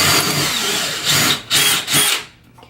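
A power drill whirs close and loud as it bores a hole for a hanging hook, running in a few short, stop-start bursts before cutting off.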